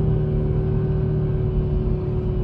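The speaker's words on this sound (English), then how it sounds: "Oh my goodness, that 5-cylinder sounds phenomenal." Audi RS3 8Y with its five-cylinder engine holding a steady high rev in gear, a loud, continuous droning exhaust note with no gear changes and no talking.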